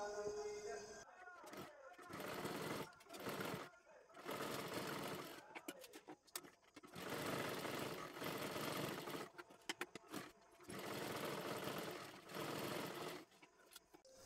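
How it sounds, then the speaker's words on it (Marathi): Sewing machine stitching seams on a one-piece dress cut from a home saree, running in loud sustained bursts separated by short pauses, with a voice talking between runs. "आता आपल्याला इथे एक आणि इथे एक शिलाई मारून घ्यायची आहे"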